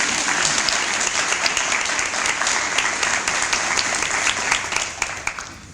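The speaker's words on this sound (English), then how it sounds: "Now that deserves a round of applause" A school crowd at W.A. Bess Elementary bursts into loud, sustained applause over a National Blue Ribbon recognition, dense clapping throughout that thins out slightly toward the end.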